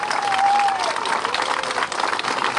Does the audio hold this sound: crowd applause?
yes